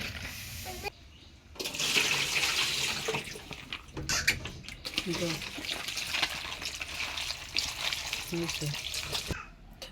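Running water from a kitchen tap splashes over flat beans being washed before boiling, a steady close rush with clattering and handling noises in between.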